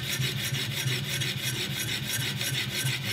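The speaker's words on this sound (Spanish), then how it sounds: "las siguientes pasadas para quitar la rebaba las haremos ya directamente sobre la cara más fina de la placa de diamante" Thinning scissors drawn repeatedly across a fine 1000-grit diamond plate to remove the burr, a steady close rasping rub with even, rhythmic strokes and no talking.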